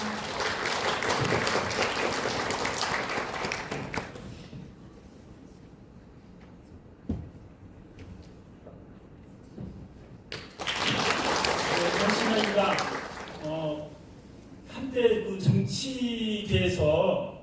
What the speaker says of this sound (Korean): 큰 박수로 맞이해 주시길 부탁드립니다